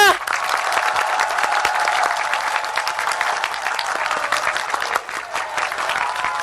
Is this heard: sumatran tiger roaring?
no